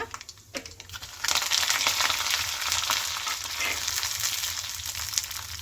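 Dried red chillies and curry leaves drop into a hot oil tempering for chutney, bursting into a loud, steady crackling sizzle after a second of clinks and stirring, continuing close up to the end.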